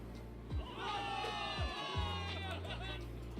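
A large crowd of soldiers in the video game Zenless Zone Zero cheers and shouts together, a sustained roar of many voices with scattered whoops rising above it, somewhat distant.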